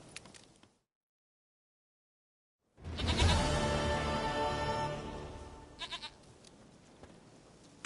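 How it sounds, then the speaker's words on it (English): Goats bleat in The Witcher 3 video game, a burst of overlapping loud, harmonic bleats following a silent gap, with a few sharp calls trailing off near the end and no speech. "Goat of mine, dearest, sweetest goat."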